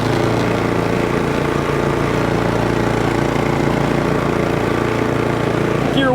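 A Cub Cadet 3X three-stage snowblower runs in first gear with its augers engaged, giving a loud, steady, close engine drone with an even mechanical rumble throughout.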